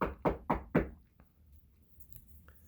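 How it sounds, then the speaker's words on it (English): Four quick, close knocks on a wooden surface in an even rhythm, followed by a quiet room. "Knock on wood."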